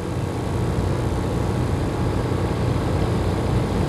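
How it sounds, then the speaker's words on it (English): A Boeing 747 jet flies with Space Shuttle Enterprise mounted on its back during a 1977 test flight, giving a steady, unbroken broadband roar that stays loud and even throughout. "Now, it's a 747 jet carrying a space machine."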